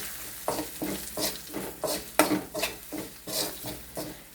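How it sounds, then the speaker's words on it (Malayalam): Chilli powder and turmeric are stirred in a frying pan, a utensil scraping in regular strokes, about nine or ten, over a soft sizzle with no talking. "എന്നിട്ട് ശരിക്കും ഇളക്കാം."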